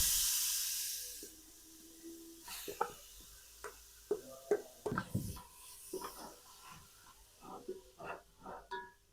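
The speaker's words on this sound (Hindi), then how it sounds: "तो चलिए हमारा घी गर्म हो चुका है, अब मैं इसमें डालूँगी गाजर जो हमने कद्दूकस की थी" Grated carrots hit hot ghee with a loud burst of hissing sizzle that quickly fades. Soft clicks and scrapes of stirring follow, with a low frying hiss underneath.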